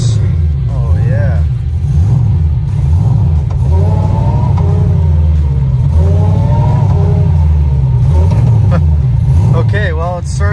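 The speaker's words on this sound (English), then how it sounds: "Let's go through some gears." An LS-swapped Nissan 240SX S13 pulls away and runs through its gears, its loud, steady engine rumble rising and falling in pitch with each shift while people talk over it.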